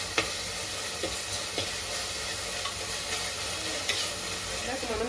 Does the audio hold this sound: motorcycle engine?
no